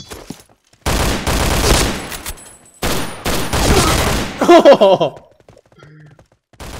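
Gunfire in the video game Point Blank: two long, loud bursts of rapid automatic fire close up, followed by a few sharp single shots and then near silence.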